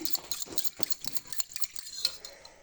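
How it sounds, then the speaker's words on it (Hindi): A spoon stirs chickpea chaat in a bowl, a run of quick close scraping and clinking strokes in an uneven rhythm, with no voices. "अब अच्छे तरीके से इसको मिक्स कर रही हूँ ताकि तमाम चीज़ें जो हैं वो यकजान हो जाएं।"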